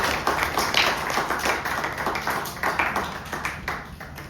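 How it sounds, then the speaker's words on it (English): Audience at a celebration of life gathering gives a round of applause, a brisk steady patter of many hands clapping at close range without voices. "One more round of applause for Abra and Kale"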